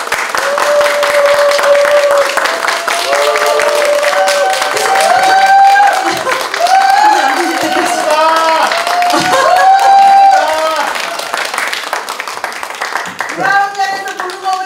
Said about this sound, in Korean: 여러분 선생님 나오실 때 박수 한번 크게 주세요